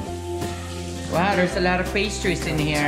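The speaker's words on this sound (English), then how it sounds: "Cooking breakfast. This is spam." Spam and eggs fry in a pan for breakfast, a steady sizzle running beneath a person talking and a tonal hum in the background.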